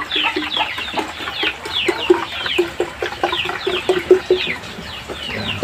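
Seven Aseel chicken chicks clucking and peeping in a steady, busy run of short calls, close and fairly loud, with no talking over them.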